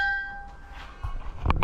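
A small chapel bell rings once at a preserved old sugar-mill estate in Rio Grande do Norte. Its clear tone hangs and fades over about a second, followed by a couple of soft knocks and clanks nearby.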